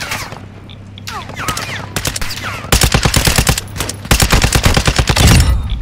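Rapid bursts of automatic gunfire from a gun in Call of Duty: Warzone 2 DMZ, loud and close, with short pauses between volleys and a few quieter sounds before the shooting starts.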